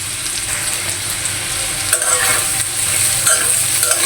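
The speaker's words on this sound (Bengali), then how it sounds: "এখন আমি পেঁয়াজ কুচি আর কাঁচা মরিচ কুচি দিয়ে দিব।" Chopped onion and green chili hit hot oil with fried potatoes and carrots, giving a loud steady sizzle broken by scraping stirs, close up and with no talk.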